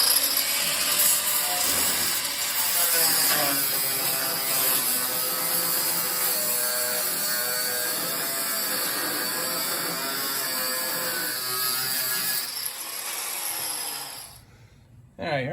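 A cut-off wheel grinds through rusted trunk floor sheet metal on a 1968 Pontiac Firebird, a loud continuous high-pitched whine lasting most of the stretch before cutting off abruptly, with a faint voice underneath.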